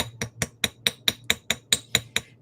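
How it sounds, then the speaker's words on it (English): Small hammer repeatedly striking the end of a jewelry wire to flatten it on a metal block, eleven sharp ringing taps in a steady even rhythm, close and crisp with a faint hum underneath. "So the reason I always hammer out the end a little bit more"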